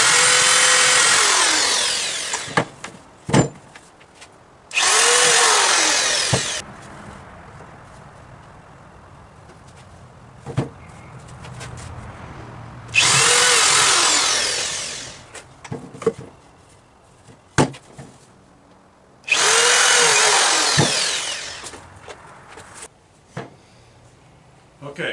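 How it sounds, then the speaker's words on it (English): A power drill pre-drilling wood for a glider bench whirs in several short bursts, spinning up and winding down, separated by quieter gaps with occasional knocks and clatter. "I want to pre-drill this."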